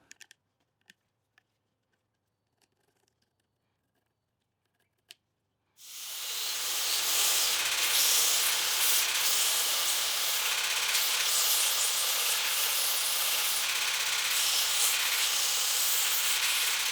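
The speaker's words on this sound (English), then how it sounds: "I decided to sand down the ones that I already have." After a few light taps and clicks, a loud, continuous, hissing abrasive roar starts and runs steadily to the end as wooden biscuits are sanded down, likely on a power sander.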